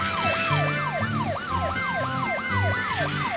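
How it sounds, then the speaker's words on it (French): A wailing siren cycles up and down repeatedly at a steady, fast rhythm, loud and close, with a low engine rumble beneath it. "Vite, voiture de police!"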